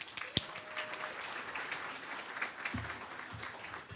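An awards gala audience gives light applause, soft scattered clapping at a distance after one sharp nearby clap at the start, with a low hum underneath.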